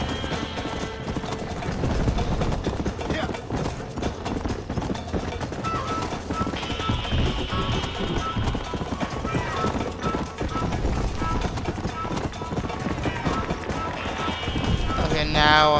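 Horse galloping in the video game Red Dead Redemption, a steady rapid clip-clop of hooves running on and on with someone talking over it.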